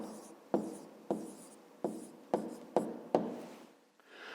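Pen strokes writing out an answer by hand, a series of six short scratchy strokes at a steady pace, close and fairly quiet, with no talking.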